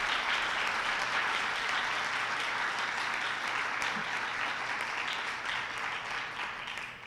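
Conference attendees at a keynote on food life-cycle assessment give a retiring colleague a final round of applause: sustained, even clapping from a sizable crowd, moderately distant, tapering slightly toward the end.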